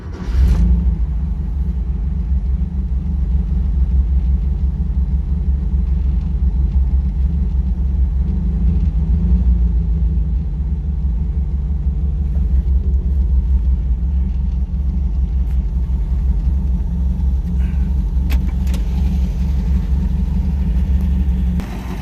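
A 1972 Porsche 914 engine runs steadily and close by, a deep continuous rumble holding an even level throughout with a slight rev midway and no talking.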